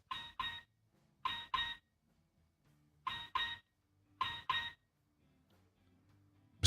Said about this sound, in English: Mysterious alarm.